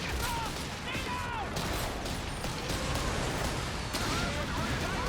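Dense, continuous battlefield fire in a Company of Heroes 3 match, with artillery shells landing on Canadian infantry amid steady gunfire and crackling impacts, all under a commentator's ongoing talk.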